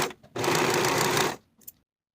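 A sewing machine stitches the finishing edge of a pant pocket on elastic-waist culottes, running steadily and loud for about a second before stopping, with a few faint handling clicks around it.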